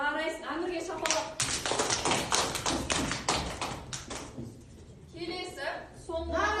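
Pupils in a primary-school classroom clap for a classmate during a Kazakh language lesson, a short burst of close, uneven claps and taps lasting a few seconds, with a teacher's voice before and after it.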